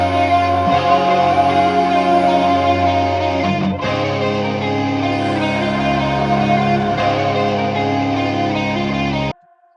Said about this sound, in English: then I added a bit of fruity delay so that like when it stops, it doesn't like immediately stop